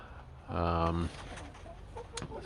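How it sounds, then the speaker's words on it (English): A single hen gives a loud, drawn-out cluck up close, followed by softer clucks and rustling in a quiet coop. "These are cold weather chickens."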